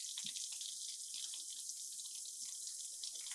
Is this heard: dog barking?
no